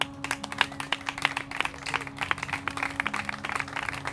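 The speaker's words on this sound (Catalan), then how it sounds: "Un fort aplaudiment." An audience at a talk marking ten years of a popular athenaeum claps in a brief round of applause, moderately quiet, with individual hand claps audible in an uneven patter.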